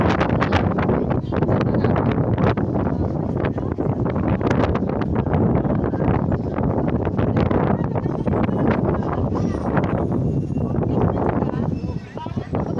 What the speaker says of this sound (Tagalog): lakas ang hangin dito, grabe